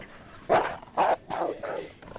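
Dog giving a series of four short muffled barks in quick succession, moderately close indoors.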